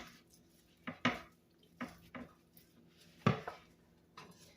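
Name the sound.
mixing cream cheese and spinach dip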